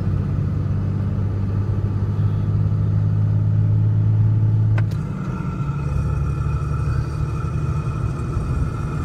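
A Cummins-powered truck with a G56 manual transmission and twin-disk clutch cruising in third gear, a steady engine drone with a low rumble that shifts pitch midway, faint whine above, no talking.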